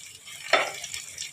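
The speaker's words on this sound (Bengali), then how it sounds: "এইভাবে একটু আমি হালকা ভাজা করে নেব।" Soybean chunks lightly frying in white oil, a brief stirring clatter and sizzle burst near the middle over a soft steady frying hiss.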